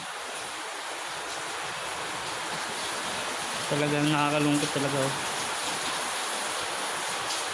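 Heavy rain pours down steadily outside a home during a storm, a constant hiss throughout, with a voice speaking briefly partway through.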